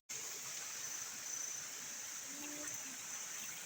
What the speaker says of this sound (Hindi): आजकल बरसात के मौसम में पानी कितना बह रहा है ना नदी में